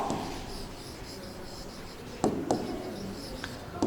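Chalk or marker strokes on a board, heard as a few short, sharp taps and scratches close by over a steady room hiss, with no voice present.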